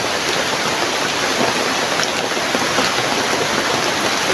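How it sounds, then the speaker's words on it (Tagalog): Heavy rain pours down steadily, a dense, even hiss of water filling the whole clip without pause and with no voices. "kasi grabing ulan na dito"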